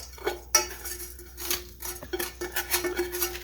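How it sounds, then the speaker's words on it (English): Sugar-coated almonds are scraped off a plate with a metal utensil. Close, irregular scrapes and clinks of metal on the dish come in short bursts with brief pauses between them, and no one talks. "I'm just scraping out the little bits here"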